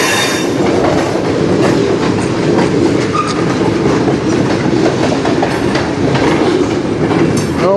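A freight train rolls through a rail yard in Sarnia, Ontario, with loud, continuous rumbling and rhythmic clickety-clack of wheels over rail joints, close by and steady throughout.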